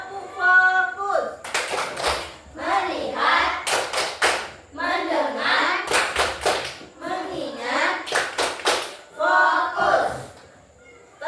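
Schoolchildren in a classroom clap along to a clap chant, with sharp rhythmic bursts of several quick claps alternating with loud chanted and sung lines from the children and teacher.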